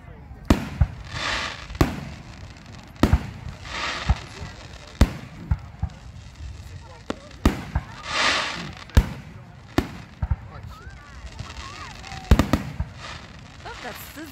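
July 4th fireworks crackle and pop in sharp bursts, with a hissing sizzle between the bangs, moderately close, while people talk quietly.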